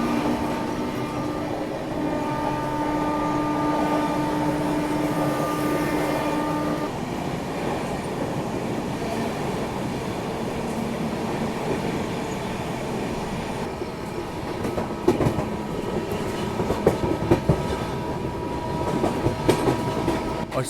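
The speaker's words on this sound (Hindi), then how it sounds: "और सामने से मेरे ख्याल से पुरुषोत्तम एक्सप्रेस आ रही है।" A train rumbles steadily close by with continuous rolling noise, later broken by rhythmic clickety-clack wheel clicks from a passing express as seen from a train halted near Etawah.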